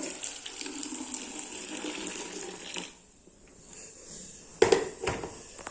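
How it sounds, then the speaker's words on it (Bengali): Hot water pouring into a bucket, a steady close gush that drops away midway, then a brief louder splash and trickle near the end. "দেখুন আমার জলটা গরম হয়ে গিয়েছে আমি আবার এটা বালতিতে ঢেঙে নেব"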